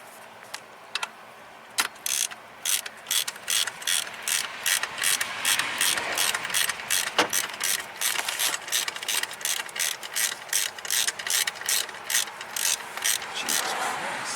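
A ratchet loosens 10mm bolts on the 5.4L 3V engine of a Ford F-150, a fast run of close, loud clicking bursts in a steady rhythm with brief pauses between strokes.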